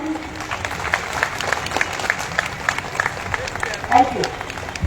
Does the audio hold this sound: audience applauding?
yes